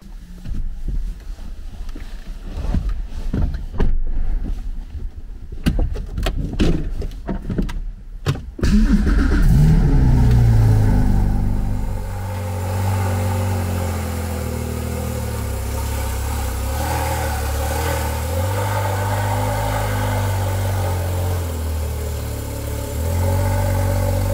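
A Porsche Cayman GT4 (981) with a remapped engine on a road test: a few sharp blips and revs first, then the engine settles into a loud, steady, sustained drone close by, with no talking.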